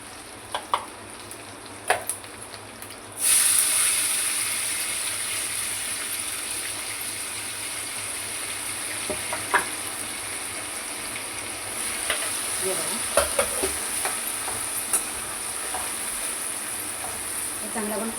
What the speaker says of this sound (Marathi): चांगला आपण परतून घेऊया. कांदा चांगला लाल होईपर्यंत.